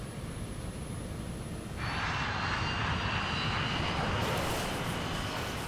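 A KLM airliner bearing down at nearly 200 mph, a loud continuous jet engine roar that swells partway through and holds steady, with no voices.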